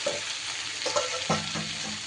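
Fried pointed gourds (potol) go into a pan of sizzling spice masala, giving a steady frying hiss with a few soft stirring scrapes and clatters, close and alone.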